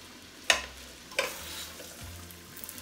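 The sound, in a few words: frying rice in a pan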